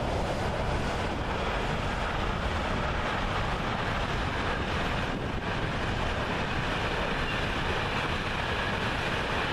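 A steady, loud roar of a train passing on the Cervignano line in Italy, broadband rumbling with wind buffeting the microphone, sustained without a break.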